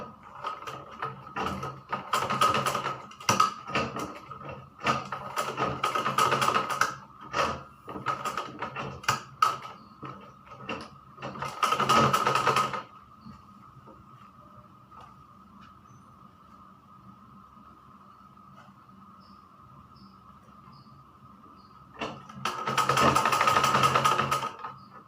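Sewing machine stitching piping onto a blouse body piece, running in several loud bursts of rapid stitching separated by pauses and a long quiet stretch with a faint steady hum.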